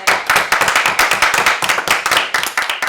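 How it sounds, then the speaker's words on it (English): A small audience at XP School claps for a student's presentation, a brisk round of distinct, closely spaced hand claps at an even pace, close and lively, with no voices over it. "Can we round of applause for it?"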